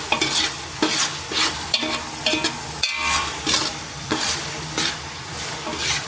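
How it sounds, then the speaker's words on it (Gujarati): Onions fry slowly over low heat in a pan while a utensil stirs them, giving a steady sizzle broken by repeated scraping strokes against the metal, close and continuous with no talking. "ડુંગળીને એકદમ ફ્રાય થવા દેવાની 15 થી 20 મિનિટ."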